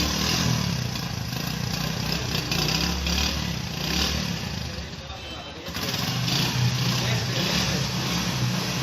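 A Honda CD 70 motorcycle, 2021 model, runs with a steady, continuous engine rumble at close range, dipping briefly partway through before settling back to the same level.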